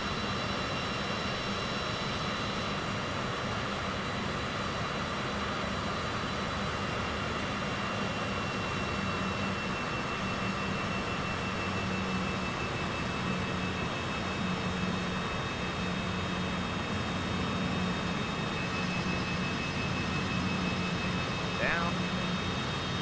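An aircraft taxis to parking in Microsoft Flight Simulator 2024, with a steady jet engine whine and broad rumble holding at constant level throughout while a voice speaks over it.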